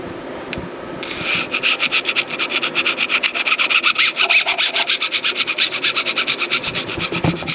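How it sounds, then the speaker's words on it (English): A rag scrapes crud off the way of a Bridgeport milling machine, a rapid rhythmic rasping rub repeated many times, close and fairly loud with no talking. "give it a good scrape off"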